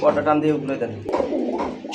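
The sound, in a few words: pigeons cooing at a pigeon market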